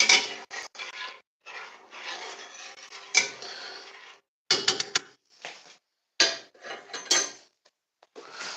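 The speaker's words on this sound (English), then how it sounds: "So I'm stirring the sugar" Sugar and water being stirred in a pot on the stove for homemade cranberry sauce: close, scraping and clinking strokes in irregular bursts with short pauses between them, no voices.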